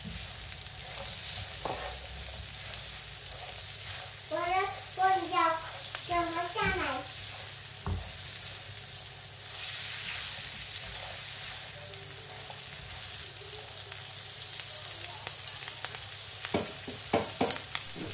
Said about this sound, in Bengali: আমি আস্তে আস্তে এগুলোকে নেড়ে চেড়ে এখন রান্না করে নেব